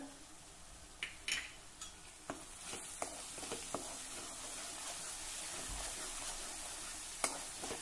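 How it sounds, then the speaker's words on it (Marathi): Ground spices, including coriander powder, cumin powder, asafoetida and turmeric, sauté in a pan with a low, steady sizzle, punctuated by scattered clicks and scrapes from stirring. "हे आपल्याला जरा परतून घ्यायचं आहे"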